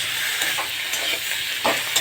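Turmeric, cumin, ginger and chili sizzle in hot oil while being stir-fried for a rice dish, with a steady frying hiss and a few soft stirring scrapes close by.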